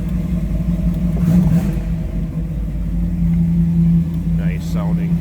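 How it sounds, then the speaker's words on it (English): A 1929 Ford Model A sports coupe street rod with a V8 rumbles loudly up close at high idle, settling and swelling in a couple of revs, with brief talk over it. "Nice sounding V8 under the hood."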